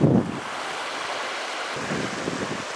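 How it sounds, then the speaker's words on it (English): Oak Creek in Sedona, Arizona, rushing steeply down rapids before a sharp turn: a steady broadband roar of churning water, close and continuous, with a brief louder swell at the start and no voices. "It's rushing down, you can see the rapids, right?"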